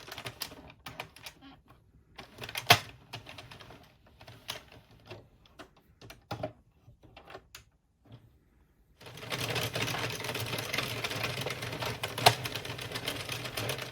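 A circular knitting machine works rounds with sparse mechanical clicks and clacks at first. It then settles into a continuous, dense rattling whir as the crank turns steadily, heard close and without speech.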